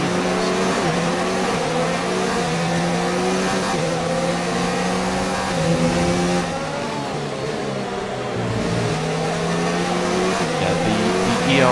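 Formula 1 race cars in the video game F1 2019, including an Alfa Romeo, with loud engines revving and shifting gears continuously under a commentator's talk.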